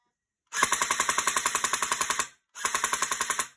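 Fjs HK416D v4 gel blaster with mosfet firing full automatic, two rapid even bursts of sharp mechanical cracks at a steady rhythm, loud and close, with a short pause between bursts.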